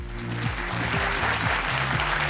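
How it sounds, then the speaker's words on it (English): Audience applause greets a cancer surgeon, Director of Surgical Oncology at Max Clinic and Fortis Hospital, coming on stage at a health awards event in Bangalore; steady clapping from many hands runs over a loud stage music track. "There's the applause, ladies and gentlemen."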